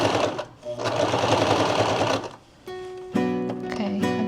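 A sewing machine stitches through fabric, giving a loud, close mechanical whir that slows and then shifts to a steadier hum as it keeps running.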